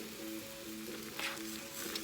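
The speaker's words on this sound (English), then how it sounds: "Well, it's cooking up pretty good. It's sizzling." Food sizzles steadily on a hot barbecue grill with hickory, a constant crackling hiss with small pops, heard close up with no talking.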